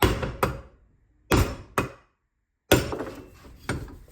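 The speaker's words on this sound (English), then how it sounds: "thread them in slightly, enough where you're not gonna just shred the threads, and then you hammer it from the back" Several sharp metallic hammer strikes on the back of a second-generation Toyota Prius front wheel bearing assembly in a garage ring out in irregular pairs, close and loud, each with brief ringing decay and silence between.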